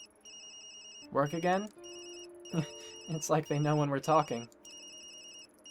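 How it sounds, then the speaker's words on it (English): A mobile phone ringtone from the video game Tokyo Dark repeats a steady electronic melodic pattern throughout, sitting under and between a conversation between people talking. "Sorry, Yumi. That's my phone."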